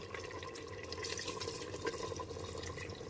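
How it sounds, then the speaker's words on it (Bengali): Two cups of hot water are poured into a pressure cooker holding braised mutton curry, making a faint, continuous splashing trickle throughout. "এরপর এর মধ্যে দিয়ে দেব 2 কাপ পরিমাণ গরম জল"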